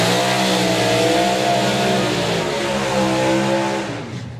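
A BMW drag racing car's engine roars loud and close at high revs, holding a sustained howl before easing off near the end.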